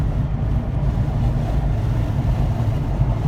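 Honda Civic hatchback Sport on a test drive, a steady broadband road and engine rumble with wind noise, continuous and close, no talking.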